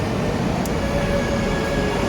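London Underground metro train rumbling steadily at close range, a continuous low roar of wheels and carriage noise with a faint high whine, no voices.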